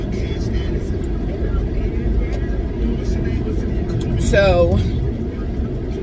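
Steady low rumble of a car's engine and road noise from inside the cabin while driving, continuous throughout, with a person speaking briefly over it.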